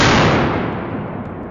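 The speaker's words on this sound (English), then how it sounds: "Then came the crack of gunfire, and down went the biggest hog yet." A loud gunshot during a wild boar hunt near a wheat field: one sharp crack followed by a long, broad rumbling echo that fades slowly over about a second and a half, with no voices.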